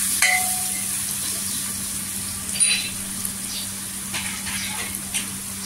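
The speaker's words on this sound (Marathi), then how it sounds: "इथे सुके मसाले आहेत ना छान असं तेलावर परतून घ्यायचं" Steady sizzling of dry ground spices frying in hot oil, with a constant crackle and occasional scraping stirs; no talking.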